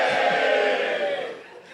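A live audience gives a loud, sustained cheer and shout at a shooting-kit talk, then the noise fades out.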